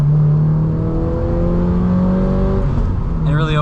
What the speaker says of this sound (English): it really opens up, and you get that overrun snarl